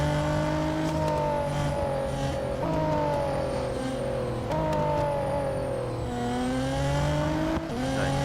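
A racing car engine in the mobile game Real Racing 3 drones loudly and continuously while climbing a hill, rising in pitch through each gear before dropping at the shifts, with faint tire noise.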